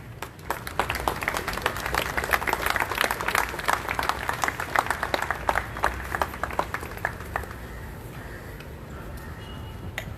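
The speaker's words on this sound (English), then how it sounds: "Give a big clap." A crowd claps and applauds at a human rights protest rally in Goa, sustained dense clapping for about ten seconds with no speech over it.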